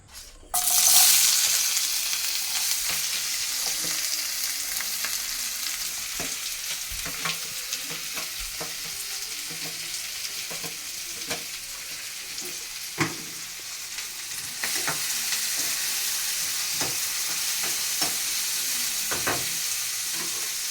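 Curry tempering crackles and sizzles steadily in a pan, with scattered stirring clicks and pops over the continuous hiss, close and fairly loud throughout.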